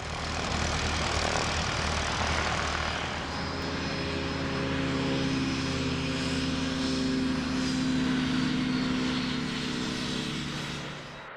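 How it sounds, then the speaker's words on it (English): Boeing 747 freighter engines roar loudly and continuously, a broad rushing jet noise with a steady low drone that swells slightly toward the end as the aircraft passes nearby. "Apart from the passenger jets and the Boeing 747 freighters coming and going, there were other interesting aircraft types on the move"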